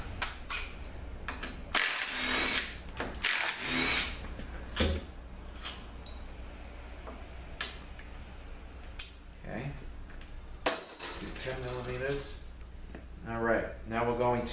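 Hand tools work the tension plate off a 4T45E automatic transmission with a blown differential: metallic clinks, scrapes and ratchet clicks come in scattered bursts under a man's speech.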